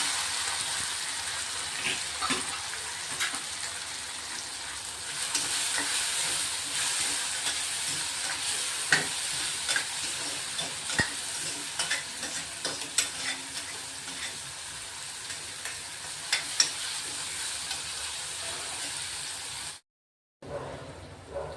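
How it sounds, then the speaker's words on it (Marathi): Tomatoes, chilli and garlic sizzle steadily in a hot pan of tempering for a long stretch, with occasional scraping and stirring clicks, before a brief cut near the end. "फोडणी चांगलं परतून घ्यायचं"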